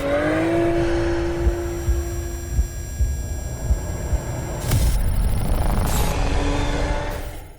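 Race car engines rev and whine in a racing video game, with rising, sustained engine tones over a dense rumble. Sharp bursts of game effects cut in near the end.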